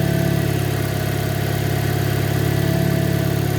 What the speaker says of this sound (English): Motor is running, and let's turn this around and see what we've got.